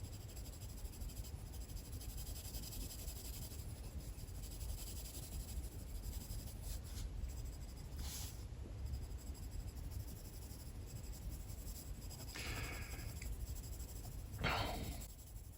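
Polychromos colored pencils stroking across paper, a soft continuous scratchy shading sound heard close up under steady background hiss, with a few brief louder strokes toward the end.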